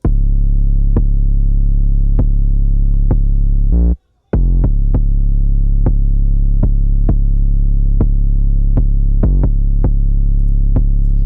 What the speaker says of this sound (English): Next, I got this special 808 patch